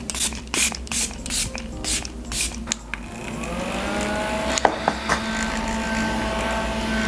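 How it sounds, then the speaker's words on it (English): A Huda Beauty Resting Boss Face waterproof setting spray is pumped in a quick run of short, hissing mist bursts, followed by a steady, softer background hiss. "I'm just gonna use the Resting Boss Face Waterproof Setting Spray."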